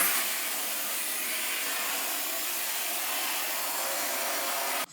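A hair dryer blows hair dry in one steady, loud, close whoosh of hiss and airflow that runs unbroken and cuts off at the very end, with no talking.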